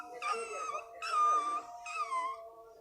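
A child imitates a crying dog, producing three drawn-out whimpering howls in a row, each rising and falling in pitch, close and fairly loud with quiet gaps between.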